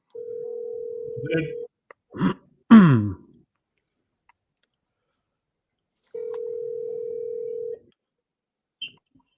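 A phone call rings out on the line with two long steady tones separated by a gap, with a brief voice and throat noise between them, ending unanswered and rolling to voicemail.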